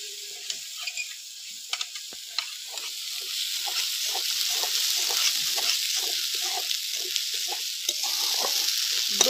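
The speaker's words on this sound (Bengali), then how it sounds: "আদা বাটা, কাজু বাদাম বাটা আর জিরে বাটা ভালো করে মশলাটা কষে নেব।" Ginger, cashew and cumin paste sautés in a pan, giving a soft sizzle that grows louder, punctuated by repeated light scraping taps of stirring, with no talking.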